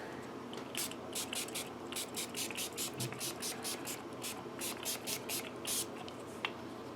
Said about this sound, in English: Use the old Dunlop 65 guitar polishing cleaner.